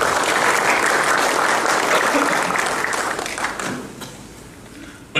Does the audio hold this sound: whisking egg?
no